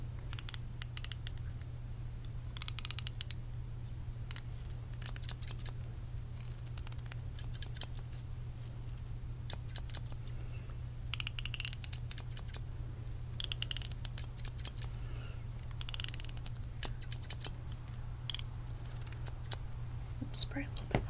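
Scissors snipping hair during a close-miked haircut role play, quick crisp clusters of snips with pauses between, intimate and near over a steady low hum, with soft whispered talk throughout.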